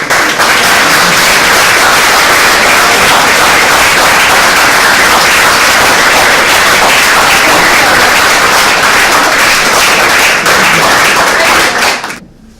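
Audience applause fills a room at a spotlight event, a loud and dense wash of many hands clapping that holds steady for about twelve seconds before it stops abruptly.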